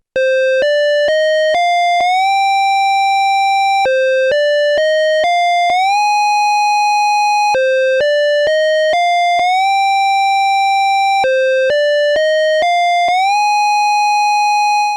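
A bright synthesizer lead plays a repeating melody whose notes slide smoothly upward into held pitches with a glide setting of 14, loud and clean, the phrase cycling several times with no talking.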